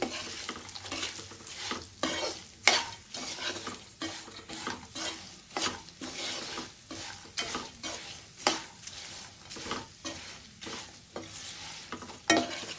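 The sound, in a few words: frying peanuts, coconut and cashews for poha mixture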